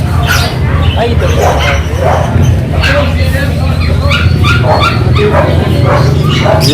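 Dogs at a pet shop bark and yip in repeated short bursts, fairly close and loud, over a steady low hum and background chatter.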